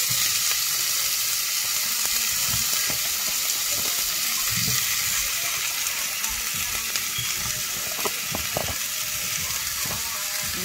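Squash and zucchini sizzle steadily in a hot pan over low heat as a pork chop dinner cooks, with a continuous bright hiss, occasional clinks and stirring knocks throughout, no talking.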